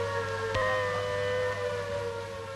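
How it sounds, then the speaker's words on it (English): Air raid warning siren sounding during a civil defense rehearsal in New York, a steady wailing tone held throughout with a brief knock partway in. "this warning sound, familiar here,"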